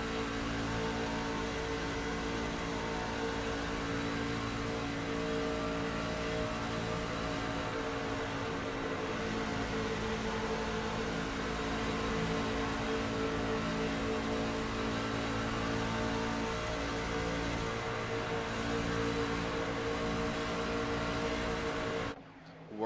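Racing truck engine at EchoPark under throttle, a steady, loud droning roar with layered engine tones and small shifts in pitch as the pedal is worked, continuous for over twenty seconds.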